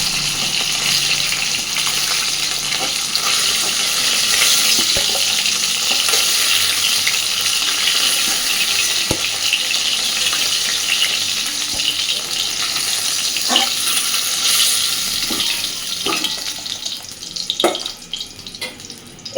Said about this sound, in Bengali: মাছগুলো ভেজে নিয়েছি, এবার তুলে নেব